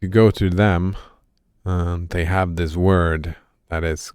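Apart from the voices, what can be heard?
No distinct noise like a dog, phone or traffic.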